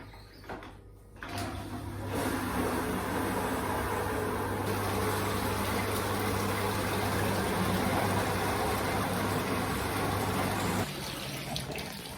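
A liquid pump draws wort out of a brewing bucket on a commercial brew day. It starts with a few clunks and then runs as a steady, continuous whir with a low hum for about nine seconds before stopping.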